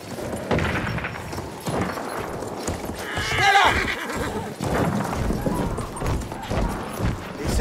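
A cavalry horse in Battlefield 1 lets out a loud whinny over the steady clip-clop of galloping hooves, close and continuous, with distant combat thumps in the background.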